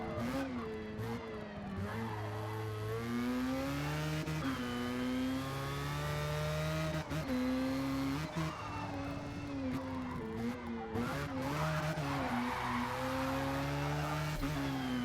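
A Mazda RX-3 races in a driving video game, its engine revving up and down through gear changes with brief tyre skids, heard fairly quietly and without talk.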